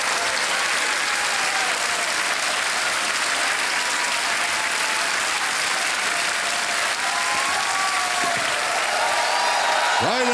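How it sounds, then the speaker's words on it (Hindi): A studio audience at a televised quiz game show claps loudly and continuously, a dense steady wash of applause that fills the whole stretch at close range, with a voice faintly heard near the end. "ताली बज जाए इनके लिए"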